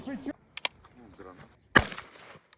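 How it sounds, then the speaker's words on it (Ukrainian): A single sharp rifle gunshot cracks out amid quiet talking during military recruit training while zeroing weapons, preceded by a couple of faint clicks. "Пристрелюємо зброю."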